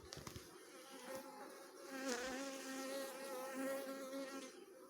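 Dense, steady buzzing of many honeybees in an open hive full of nectar, a continuous close swarm drone with shifting pitch and no talk over it.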